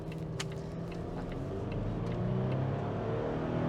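A Volvo XC40 engine accelerating from inside the car, a steady rising drone that grows slightly louder toward the end, with no talking.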